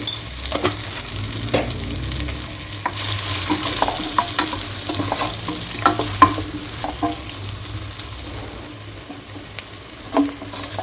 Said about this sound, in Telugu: ఆనియన్స్ చూడండి ఇలా ఫ్రై అయ్యాయి